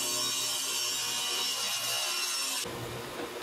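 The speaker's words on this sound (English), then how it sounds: "First, I cut my pieces of wood down into 2-inch strips." A saw steadily cuts wood into 2-inch strips for an end grain cutting board, a close, even grinding buzz that stops abruptly before a brief clunk at the end.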